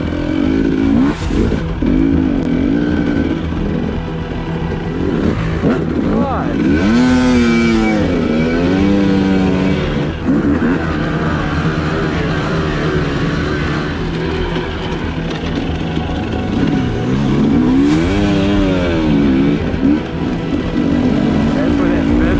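A dirt bike engine revs and pulls while riding, rising and falling through repeated surges, loud and close throughout, with a voice talking over parts of it.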